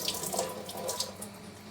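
Water pours steadily from a tap into milk in a pan on a gas stove, a close, soft trickling splash running the whole time with no talk.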